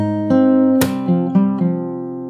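On fingerstyle guitar, the opening phrase of a song's chorus, a few plucked bass-and-treble pairs followed by a brighter strum, notes ringing over one another, played up close with no voice.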